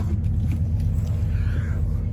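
Steady low rumble of a train carriage on a London journey, continuous and close, with faint rattles over the top.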